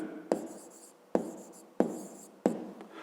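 Hand-writing a fifth-grade math solution, four short strokes of pen or chalk scratching close by, each beginning with a sharp tap and then fading in a soft scrape.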